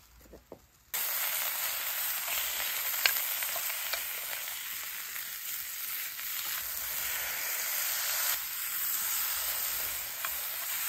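Mushrooms stir-fry in a pan at a campsite, a loud, steady broadband sizzle that starts abruptly after a quiet moment and continues throughout, close to the listener, with faint scraping of stirring and no talk.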